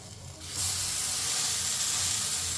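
Brinjal slices sizzle loudly in a frying pan, a sudden burst of bright hissing that swells after a quiet start and holds steady, close to the pan.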